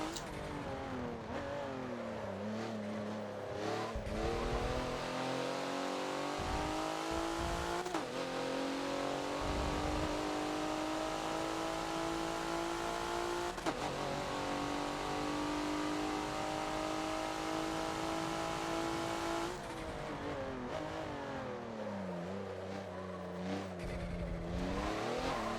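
Porsche race car engine in a Forza racing game on the Homestead Road circuit, roaring steadily close up with repeated upshifts and rising revs, loud and continuous with no talk.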